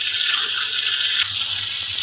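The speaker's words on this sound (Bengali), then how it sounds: "পরিষ্কার করে ধুয়ে নিলাম চিংড়ি মাছগুলো" Prawns are washed under a running tap, producing a steady, close, bright hiss of flowing water that swells slightly partway through, with no voices.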